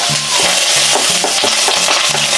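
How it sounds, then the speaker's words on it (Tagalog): Bay leaves, ginger and garlic sautéing in hot oil in a pan, a loud continuous sizzle with a steady, repeated scrape of stirring, close by and with no talk. "As usual, mantika sa mainit na kawali. Gigisa lang tayo."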